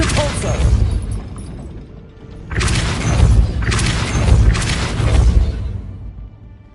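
A gate mechanism raising in Hogwarts Legacy: a grinding, clanking sound of gears and ratchets running in several loud bursts, each with a heavy thud.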